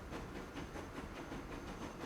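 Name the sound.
train running in Transport Fever 2 video game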